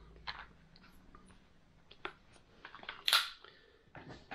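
The folding stock of an MCK Gen2 chassis for a Glock 17/19 is handled and snapped onto its small hook, soft plastic clicks and rattles leading to one sharp, close clip.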